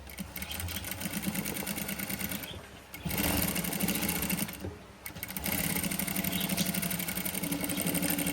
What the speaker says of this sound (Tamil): படிமான தையல் ஒன்று போட போகிறேன்